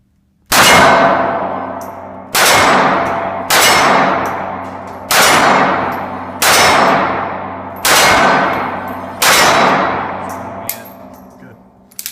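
A Ruger LCP pistol fires seven sharp, loud shots at uneven intervals of roughly one to two seconds, each crack followed by a long ringing decay, close to the shooter.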